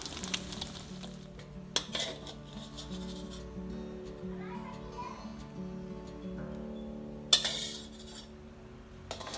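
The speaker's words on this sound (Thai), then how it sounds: "ทอดประมาณนี้นะครับไข่มันสุกประมาณนี้นะครับ" Eggs frying in a pan give a steady low sizzle throughout, broken by a couple of sharp utensil clinks against the pan, heard close.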